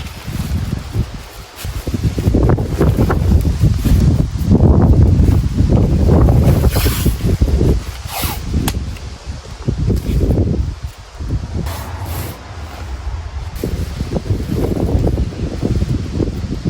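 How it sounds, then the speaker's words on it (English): Strong gusting wind buffets the microphone with a roaring, rumbling rush that swells and eases, with rustling in the background. "Why is it always windy here?"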